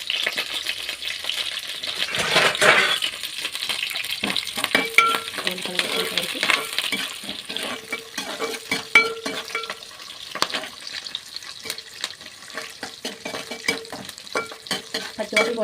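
Dry prawns, cumin and curry leaves fry in a pan as a spoon scrapes and stirs them. A steady close sizzle runs throughout, with a burst of hissing early on and frequent clinks of the spoon against the metal.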